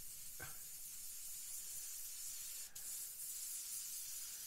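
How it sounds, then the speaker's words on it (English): A Gaahleri airbrush sprays thick, unthinned dark paint as a steady, faint hiss lasting throughout, with a couple of brief soft clicks. "We can focus this spray right at the root."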